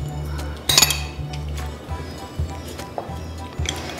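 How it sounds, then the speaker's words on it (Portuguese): Garlic is mashed by hand for a Caesar salad in a home kitchen, with repeated rhythmic thuds and clinks of utensil against dish, a sharper metallic clink early, then a series of softer knocks. "Eu comecei a amassar o alho"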